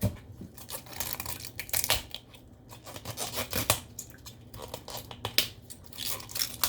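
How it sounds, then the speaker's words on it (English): Leaves are peeled by hand off a whole cauliflower, giving close, uneven bursts of snapping, tearing and rubbing with short pauses between pulls, no one talking. "And then just peel this off."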